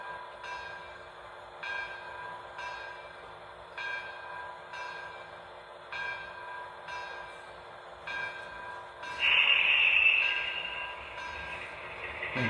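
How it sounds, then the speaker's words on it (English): A model Jersey Central steam locomotive on a layout chuffs in a regular rhythmic pattern, then lets out a louder sustained hiss of steam before the chuffing resumes. "It's just giving you that steam sound, right, as it's holding its place"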